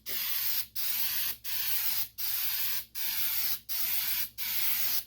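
An aerosol can sprays rubberized coating onto a vehicle's running boards in seven short, even hissing bursts with brief pauses between them, close and steady, with no talking.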